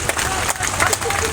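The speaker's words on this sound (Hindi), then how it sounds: "जोरदार तालियां बजाओ" A crowd applauds at a BJP political rally in Rewa with the Chief Minister, a short burst of dense clapping mixed with a voice speaking over the loudspeaker.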